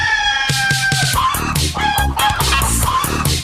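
In a techno remix track, loud rooster crows and clucks are chopped into a driving electronic beat, with punchy rhythmic hits repeating throughout.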